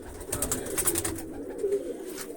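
A tiri hen pigeon sitting on eggs gives a low, steady coo, close and fairly loud, alone with no talk.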